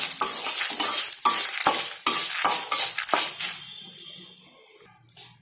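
Dry red chillies and tamarind fry loudly in hot oil while a spoon scrapes and stirs them in rapid repeated strokes, and the sizzle dies down toward the end.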